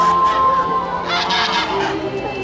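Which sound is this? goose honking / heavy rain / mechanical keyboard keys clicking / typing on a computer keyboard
goose honking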